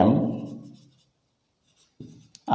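Pen writing by hand on paper as a letter accepting an invitation is filled in: a voice fades out first, then soft, brief scratching strokes follow, close and quiet.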